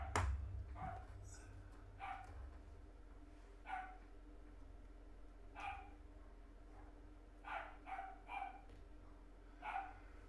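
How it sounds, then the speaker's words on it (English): Several neighborhood dogs bark in the distance, with sharp single barks and short clusters spread across ten seconds, faint against a quiet indoor background. "Now, every dog in the neighborhood is barking for some reason,"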